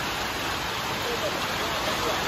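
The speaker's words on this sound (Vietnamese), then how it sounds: "Cố gắng quay thêm vài phút nữa cho quý vị các bạn ngắm trời mưa" Rain falls steadily outdoors at a bonsai garden, a dense, even, close wash of hiss with no breaks.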